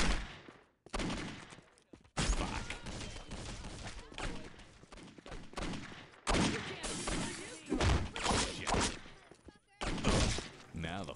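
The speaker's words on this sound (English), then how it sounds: "I do my best to avoid all of the bullets flying" Loud bursts of rapid gunfire and bullet impacts from the Postal 2 shooter game, coming in dense volleys separated by brief gaps, with occasional thuds and shattering.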